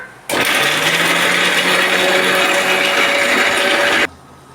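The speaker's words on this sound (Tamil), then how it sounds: "இப்போ நம்ம நம்ம தேங்காவை நல்லா அரைக்கிறோம்" A mixer grinder whirs loudly and continuously as it grinds coconut for a dried-fish curry, the high motor whine starting abruptly and stopping just as suddenly after about four seconds.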